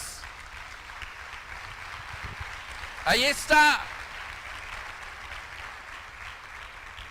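Church congregation applauding during a Spanish-language sermon, a sustained wash of clapping throughout, briefly overlaid by a short spoken phrase near the middle.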